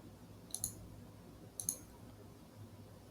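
Two crisp mouse clicks about a second apart while pressing a Save to Notion button, faint and isolated over a quiet low background hum.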